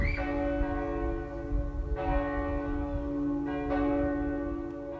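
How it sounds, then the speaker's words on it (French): Church bells ring out the hour in a few resonant strikes, each tone humming and sustaining long after it is struck, with no voices. "Les cloches de l'église, chaque heure, ça sonne."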